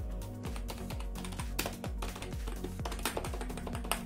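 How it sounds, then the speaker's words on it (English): Rapid clicky typing on a Logitech G213 Prodigy gaming keyboard, close and crisp, with sharp individual keystrokes in a fast irregular rhythm and no talking. "this is the keyboard, as you can see, and this is really clicky"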